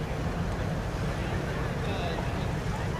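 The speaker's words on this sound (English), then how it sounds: "You can hear the water a little bit, the boats in the water." Water lapping around boats on a marsh at sunrise, a steady low wash with faint wind noise running unbroken and fairly loud throughout.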